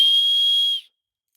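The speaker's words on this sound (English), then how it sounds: "The only thing I might do is blow a whistle" One long, shrill whistle blast outdoors in a quiet state park, steady and piercing, held for almost a second before cutting off into silence.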